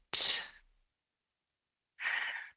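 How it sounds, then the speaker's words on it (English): A person breathes in deeply and then exhales slowly, two soft, airy breaths set apart by a pause of silence, close and quiet. "take a deep breath in and a deep breath out"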